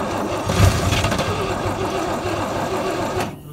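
A 1968 International C1100 truck engine being cranked after sitting 36 years, with a fast rhythmic chugging that runs steadily for about three seconds and then cuts off, close and loud with no talking.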